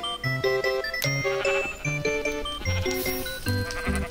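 Bleating from a goat in the Minecraft video game, several short wavering calls in quick succession, loud and close, with game music chiming underneath and no talking.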